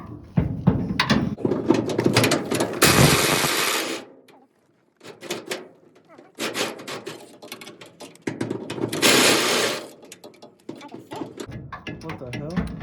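A hand tool loosens the bolts holding a truck bed, giving bursts of mechanical ratcheting and clicking that stop and start between pauses, close by, with people talking over and between them.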